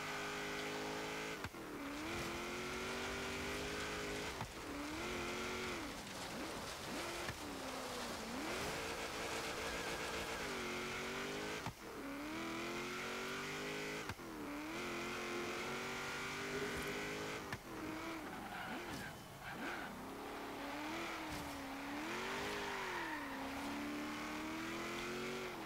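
A 1967 Chevrolet Corvette Stingray engine in a Forza autocross run, loud and continuous, repeatedly revving up and dropping off through gear changes and corners, with brief lifts between pulls.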